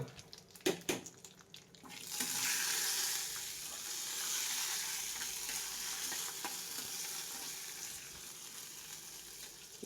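Lightly dried chillies fry over a flame with a loud, steady sizzle and hiss that starts after a few early clatters and carries on to the end, with no talking.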